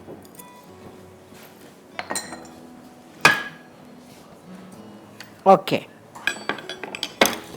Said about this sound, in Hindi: इसको सबसे पहले मिक्स कर लेंगे। Mix all the ingredients very well.